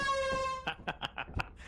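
Air horn blast in a video game, a brief harmonic honk at the start that cuts off abruptly, followed by a few sharp knocking or thudding hits.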